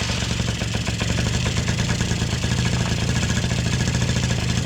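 A Polaris 50cc ATV engine runs after sitting unused for 11 years, giving a steady, close, continuous idle with a fast mechanical clatter and no talking over it.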